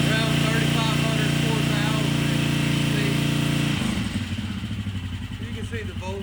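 A motorcycle with a voltage-regulation fault holds a steady rev around 4,000 RPM, a strong, even engine drone up close, then the pitch drops sharply as the engine settles back toward a lower, pulsing idle.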